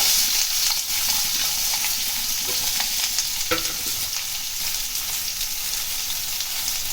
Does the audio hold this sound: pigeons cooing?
no